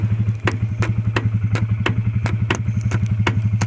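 A Husqvarna engine with an ice-frozen motor being cold started, chugging in a steady rapid rhythm with regular sharp clattering knocks, close and fairly loud.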